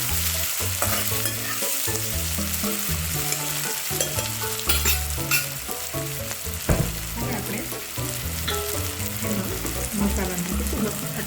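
Sliced onions roast and sizzle in a pan for a Gujarati vadi papad shaak, a continuous close frying hiss with occasional stirring scrapes, heard over steady background music.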